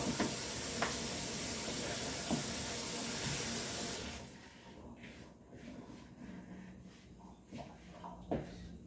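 Water runs from a kitchen tap in a loud, steady rush for about four seconds, then shuts off, leaving quiet room noise with a few faint clicks and knocks.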